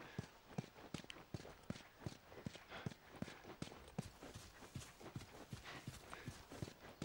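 Hoofbeats of a horse ridden in the video game The Last of Us. The clip-clopping is regular and close and keeps a steady walking-to-trotting pace, with a quiet ambient background behind it.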